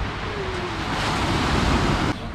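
Ocean surf washing onto the beach at Cluny in northern Basse-Terre, Guadeloupe, a steady broadband wash that swells slightly and then drops off near the end, with light wind noise on the microphone and no voices.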